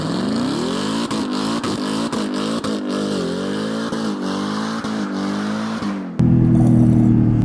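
A 2011 Jaguar XFR with 240,000 kilometres, bone stock, its engine running with a loud throaty idle, rising and falling revs and small clatters, before the sound cuts to a steadier, deeper drone near the end.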